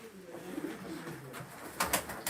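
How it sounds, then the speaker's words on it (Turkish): Gökbenek pigeons coo softly at a moderate distance, low murmuring calls with a few rustling wingbeats near the end, amid faint outdoor background. "Ha gökbeneklere bakın gökbeneklere."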